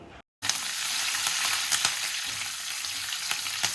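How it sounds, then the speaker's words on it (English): Slit green chilies, ginger and curry leaves sauté in a pan over a low-medium flame, giving a steady close sizzle with a few light clicks of stirring after a brief silent start. "Now we will add the slit green chilies, the ginger and the curry leaves. Saute this in low medium flame."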